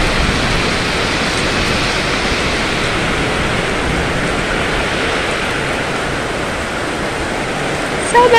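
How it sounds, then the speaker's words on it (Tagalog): Heavy rain pours down in a dense, loud, unbroken roar that stays even for the whole stretch, with no voices heard. "Sobrang lakas ng ulan!"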